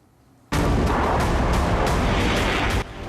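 HIMARS multiple rocket launcher firing rockets, a sudden loud roaring blast that holds as a dense sustained rush with repeated surges for about two seconds before dropping to a lower rumble.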